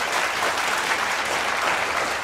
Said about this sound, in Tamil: நீங்கள் கைத்தேட்டியது சொக்கலிங்க பேச்சுக்கா உங்களுடைய உடல் நலத்திற்காகவா?